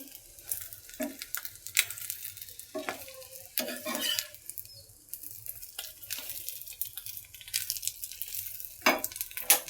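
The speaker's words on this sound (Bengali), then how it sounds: "এখানে ডিম ভাজি করে নিচ্ছি।" Eggs frying in a pan for breakfast, a steady soft sizzle with intermittent scraping and stirring clatter from a utensil, close and moderately quiet with no talking.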